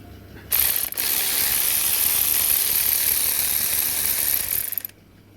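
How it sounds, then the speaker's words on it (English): An electric ratchet spins off an 18 mm bolt on a VW Golf Mk6 2.0 TDI, a close, loud, steady high-pitched whir lasting about four seconds before cutting out. "I'm doing it with the electric ratchet"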